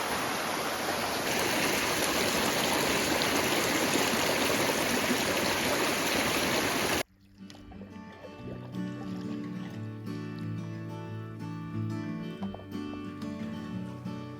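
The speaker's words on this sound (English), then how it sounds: "We heard the sound of rushing water." Loud, steady rushing of a stream by the Yukon River fills the first half, then cuts off to quieter outdoor sounds with scattered knocks and clunks.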